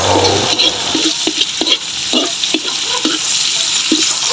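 A spoon stirs a pot of stew with tomatoes, giving a loud, close bubbling and sloshing. Soft knocks come at a fairly regular pace throughout.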